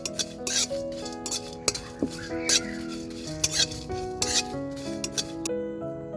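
Cumin, fennel, peppercorns and dried chillies dry roasting in a kadai, the spices scraped and stirred with a metal spatula in repeated clinks and rasps over a steady background of music.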